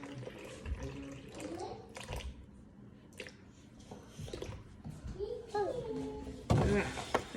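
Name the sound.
water splashing into bowl for sourdough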